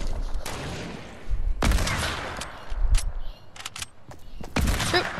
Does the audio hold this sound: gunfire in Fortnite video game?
yes